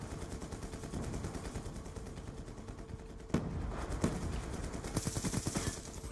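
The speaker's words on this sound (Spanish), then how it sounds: "Vale, están disparando, no tengo ni puta idea de dónde me está disparando" Gunfire from the video game Black Ops 2, a dense rattling stream of shots with several sharper cracks standing out, steady and close throughout.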